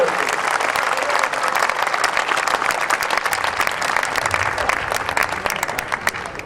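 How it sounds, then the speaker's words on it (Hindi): Dense, steady applause from a large audience at an outdoor kavi sammelan (Hindi poetry gathering) in Udaipur, sustained for the whole stretch with a faint trailing taper at the end. "एक बार जोरदार तालियां आदरणीय राहत इंदौरी"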